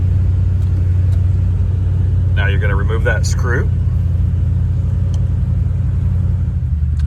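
A 2013 Toyota Tundra engine idles as a steady, loud, low rumble that runs unbroken through the whole stretch, close by, while a person speaks briefly over it partway through.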